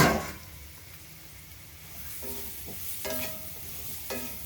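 Grated raw coconut fries in a spoonful of ghee with a soft, steady sizzle while it is stirred. Several scraping strokes rise out of the hiss toward the end, and no one speaks.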